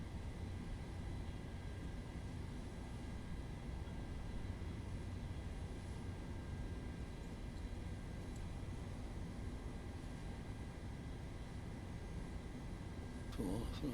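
An airliner's engines drone in Microsoft Flight Simulator, a dense, steady low rumble that continues unbroken, with a brief rustle near the end.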